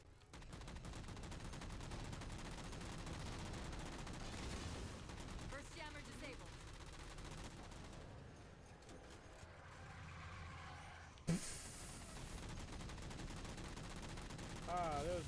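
Shooting down jammers in Halo: steady rapid gunfire over a rumbling mechanical background, with a sharp impact near the end and speech mixed in.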